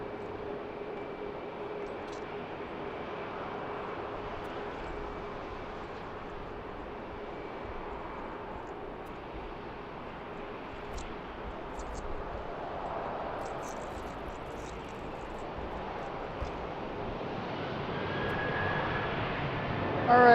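A Southwest Airlines airplane at BWI airport gives a low, broad engine roar from a distance that holds steady and slowly grows louder toward the end, with faint scattered background noises.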